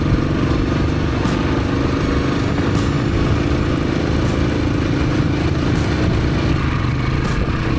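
A motorcycle cruises on a scenic road through the Ahwa Ghats and forest of Dang, Gujarat, its engine droning steadily and loud under constant wind rush, with no pauses.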